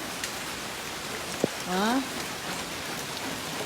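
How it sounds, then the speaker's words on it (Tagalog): Rain falling steadily outdoors near the sea at low tide, a dense even hiss throughout, with a brief exclamation from a voice and a short chirping sound partway through. "Maliligo yata ako sa ulan ngayon."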